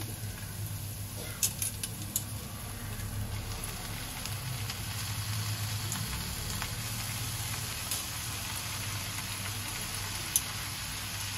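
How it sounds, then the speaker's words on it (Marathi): White goosefoot (chakwat) greens cook in a hot pan, giving a steady, close sizzle and frying hiss for the whole stretch, with a few faint clinks and no voices. "आपण यावर चाकवतची भाजी घालूया."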